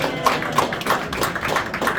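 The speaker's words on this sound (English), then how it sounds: "A round of applause for Jen." An audience applauds at a live magic show in Nashville, a dense, steady patter of many hands clapping at once, fairly loud and close, with no talking.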